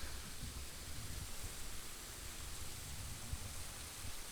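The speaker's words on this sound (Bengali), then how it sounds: "12 মাস এই জায়গাটা দিয়ে জল পড়ে কম বেশি" Water falls steadily at Motijharna waterfall, a continuous broadband rushing wash that stays even and unbroken throughout, with no voices.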